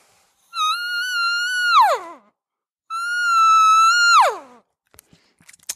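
An elk call is blown to imitate an elk cow call: two long, nasal whistling tones that hold high and then drop sharply in pitch, separated by a pause, followed by a few faint clicks.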